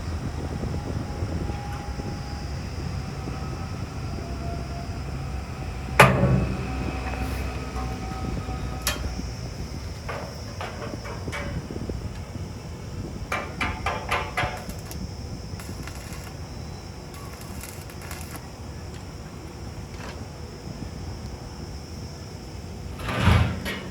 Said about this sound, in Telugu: డోర్ ఇట్లా ఓపెన్ చేసుకుంటా